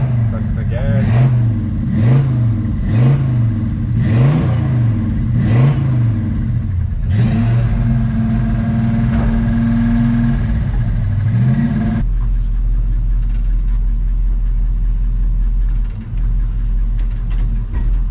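12-valve Cummins diesel in a Chevrolet C10 truck revving repeatedly as the throttle is pressed, loud rhythmic rises and falls up close, then a sustained rev before settling to a deep idle rumble, with someone talking.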